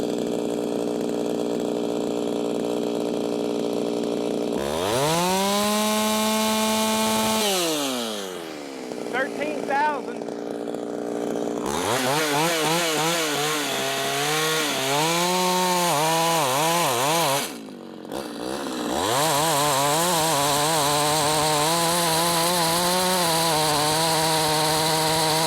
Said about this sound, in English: Let's see if I can do some tricks and figure out how many RPMs it's pulling in the cut. Well, I'll do a free spin here.